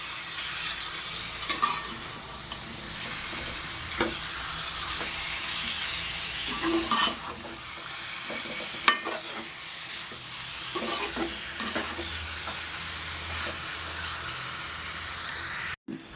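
Food frying with turmeric in a pan, a steady soft sizzle with occasional scraping stirs, fairly quiet and close, with no talking.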